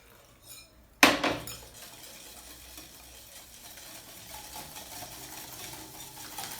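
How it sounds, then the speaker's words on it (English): Milk pours into carrot cake batter with a sharp clink against the bowl, then a whisk stirs with soft, steady scraping and sloshing close by. "so we'll just whisk in some milk"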